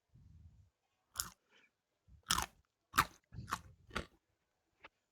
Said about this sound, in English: those crunching noises take a whole new meaning now that we know what's happened